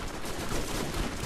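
Dense, continuous gunfire from the video game Borderlands played on PC rattles without pause through a short burst, loud and heavily layered.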